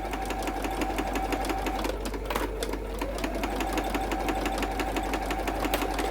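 A sewing machine stitches a fabric nail file cover with a fast, steady mechanical whir and rapid needle ticking. The motor pitch dips briefly as it slows and pivots, then resumes running up close.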